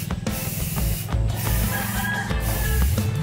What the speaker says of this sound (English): I spray painted this area of the strap